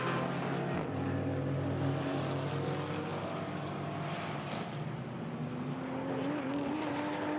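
A GT4 race car lapping the Paul Ricard circuit, its engine a steady loud drone with shifting pitch as it rides a curb out of the chicane onto the Mistral straight, with no talk over it.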